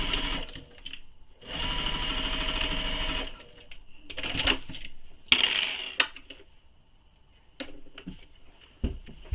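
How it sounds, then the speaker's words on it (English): A sewing machine stitches the short edge of a small messenger bag in a long steady run, then stops and gives way to clicks and a few short bursts of handling noise. "And then you're going to sew this short edge again with the seam allowance given in the pattern."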